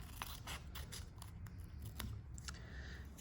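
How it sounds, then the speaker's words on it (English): Scissors cutting with a rapid run of short, crisp snips repeating in a steady rhythm, close and quiet, with no talk over them. "Next, we're going to cut over here on this side."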